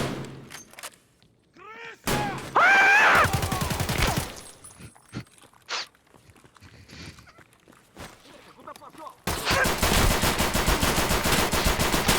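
Video game gunfire rings out in short sharp bursts early on, then turns into loud, sustained rapid automatic fire near the end, with voices heard between the shots.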